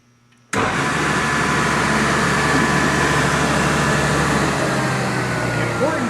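Table saw cutting dados, starting abruptly with a loud, steady whirring roar that holds through the rest of the clip.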